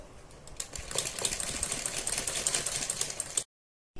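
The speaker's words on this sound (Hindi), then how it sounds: "इसके ऊपर इस तरह से किनारे से थोड़ा सा हटके गले के ऊपर इस तरह से सिलाई लगा देते हैं चारों तरफ को" A sewing machine runs a stitch line around a garment neckline, a fast steady mechanical chatter close by that stops abruptly near the end, with no talking.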